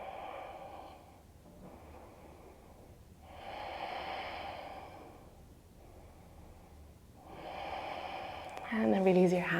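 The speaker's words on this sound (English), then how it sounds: "the breath flowing." Slow, steady breathing during a yoga vinyasa flow, soft long inhales and exhales in a regular rhythm, close and quiet, with a faint voice at the very end.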